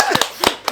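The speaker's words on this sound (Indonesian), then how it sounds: "Tepuk tangan dulu dong." A few sharp hand claps ring out in a casual podcast chat setting, coming in short irregular bursts of two or three quick claps, close and fairly loud, with no voices over them.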